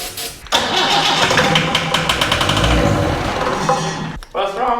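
An old Land Rover diesel engine cranks with a rapid, rhythmic churn for several seconds, then cuts off abruptly, close and loud, with voices speaking over it.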